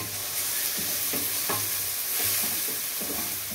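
Beef ragù sautéing in a pan, with a steady hiss of frying and repeated scraping stirs of the spoon at a regular pace, close and fairly loud throughout, with no voices.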